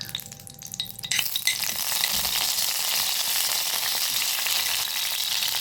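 Cumin seeds roast in homemade ghee in a pan, crackling with a few early clicks and pops before settling into a bright, continuous sizzle, close and without any talk.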